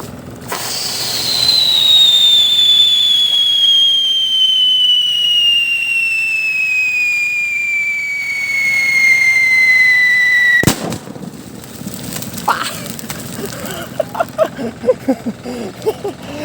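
A homemade scream-whistle firecracker shrieks for about ten seconds with a steadily falling pitch, then bursts in one sharp bang followed by crackling and scattered pops.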